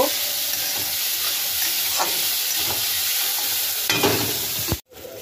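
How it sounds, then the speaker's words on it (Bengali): Ginger and green chillies, with tomato, fry together in a pan of hot oil, giving a constant close hiss and sizzle with light stirring scrapes, then a brief clatter and a sudden drop near the end. "আদা এবং লঙ্কা আমি একসঙ্গে এগুলোকে একটু কষিয়ে নেব।"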